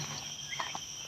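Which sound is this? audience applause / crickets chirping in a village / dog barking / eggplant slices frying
crickets chirping in a village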